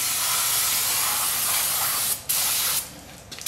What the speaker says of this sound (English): Spray the brake shoe down.